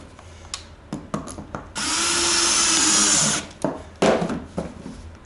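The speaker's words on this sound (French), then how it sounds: "Tu viens la casser dans le trou et il te reste à visser." A power drill drives a screw into a hole packed with broken matchstick or toothpick in a workshop, one steady burst of about two seconds between short knocks and handling clatter.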